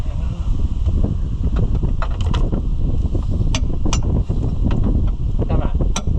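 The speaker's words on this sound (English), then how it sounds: "Man, it's getting windy." Wind blowing outdoors on a rainy day, heavy gusty rumble battering the microphone throughout, with scattered light knocks and clicks from mechanical parts nearby.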